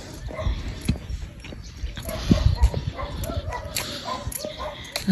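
Several sharp dog barks and yips come in short bursts against noisy, crackling surroundings in the rain.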